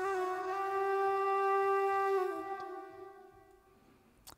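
Recorded singing voice with autotune applied holds a long, steady, pitch-locked sustained note, loud and clear on its own, then gradually fades away.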